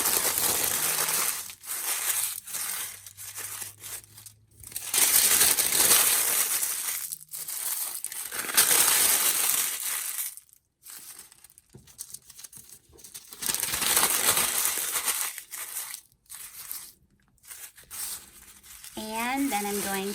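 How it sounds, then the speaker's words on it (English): Sheets of white and brown deli paper being crinkled up by hand: crisp crackling and crumpling in irregular bursts with short pauses, close and fairly loud, with a voice speaking briefly near the end. "So I'm going to crinkle all of these up"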